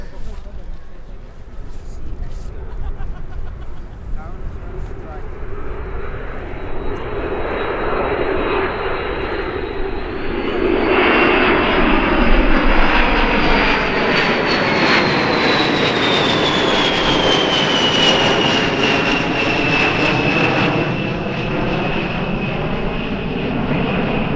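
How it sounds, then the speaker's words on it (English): A B-52H Stratofortress bomber at an air show roars steadily with heavy jet engine noise, swelling louder midway as it passes with a rising whine, continuous and fairly close. "the US Air Force's nuclear-capable bombers, the B-2 Spirits, and the B-52s, like this"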